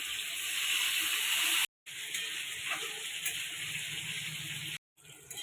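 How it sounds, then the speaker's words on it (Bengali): Water poured into a pan of browned chicken for a thin Bengali curry, hissing and sizzling steadily against the hot pan, close and loud, with two brief breaks. "আমি জল দিয়ে দেবো।"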